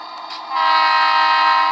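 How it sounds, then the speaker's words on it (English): Model train locomotive horn on a home layout: a sustained, chord-like horn blast that swells in after a brief softer start and holds steady, loud and close, with no talking. "Oh, but that horn sounds so good."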